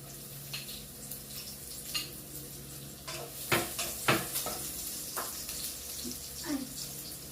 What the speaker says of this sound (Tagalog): Nagigisa na tayo. Unahin natin ang bawang,